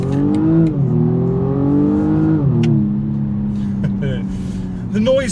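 A 2-litre four-cylinder engine in a 2019 BMW M135i xDrive revs steadily, its pitch climbing and dipping through several swells, close and loud, with a sharper rise at the end.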